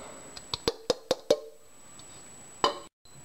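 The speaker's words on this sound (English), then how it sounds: "Next we're going to add our 3 potatoes." Potatoes dropping into a crock pot already holding oxtails: five or six quick, fairly faint thuds and plops in a row, a pause, then one last thud, in a quiet kitchen.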